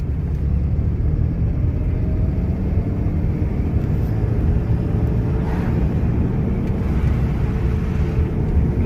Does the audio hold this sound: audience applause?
no